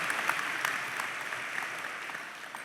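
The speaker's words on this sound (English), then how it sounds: "I think we should applaud ourselves for that, so give it up." A commencement audience applauds in a moderate, steady wash of many hands clapping, heard at some distance with a few individual claps standing out and a faint murmur of voices underneath.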